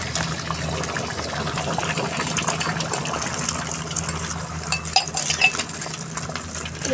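Eggs fried in plenty of hot oil in a pan for a Bengali egg and brinjal dish, giving a steady, close sizzle and crackle with small spatters throughout, with no talking.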